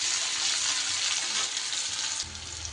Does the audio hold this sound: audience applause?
no